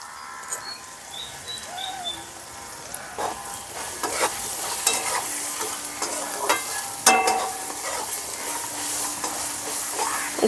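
Spices stirred into a hot pan of fried prawns with ginger paste, chili powder, turmeric and salt, giving steady sizzling with repeated scraping strokes, and faint birdsong in the background.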